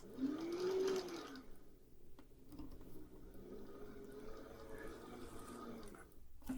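A Singer 401A sewing machine with a potted motor runs at full speed in a loud whirring burst, then drops to a slower, quieter steady hum nearby.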